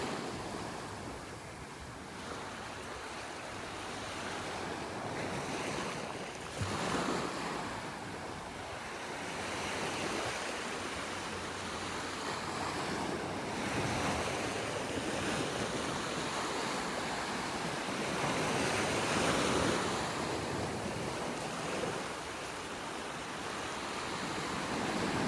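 Ocean surf rolling steadily onto a beach in North Naples, Florida, a continuous wash of breaking waves with wind noise over the microphone and no voices.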